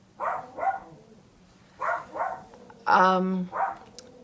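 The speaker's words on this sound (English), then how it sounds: "Are they just going to bark the whole time? You guys need to stop barking." Dogs bark in short pairs of yips and woofs, close by, with pauses between bursts and one longer, harsher bark near the end.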